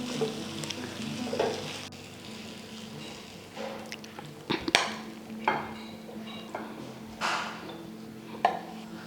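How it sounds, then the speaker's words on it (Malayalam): Peeled ingredients are mixed together in a pan with a spoon, making intermittent scrapes and clinks every second or two over a soft background sizzle, close by and fairly quiet. "ഇനി നമുക്ക് ഇതെടുത്ത് അതിനോട് ഇട്ടിട്ട് നമുക്കത് എല്ലാം കൂടി ചേർത്ത് ഒന്ന് മിക്സ് ചെയ്തെടുക്കാം."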